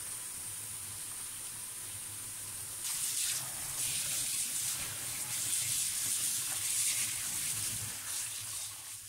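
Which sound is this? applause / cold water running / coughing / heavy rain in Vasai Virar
cold water running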